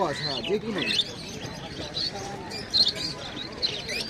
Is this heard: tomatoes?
no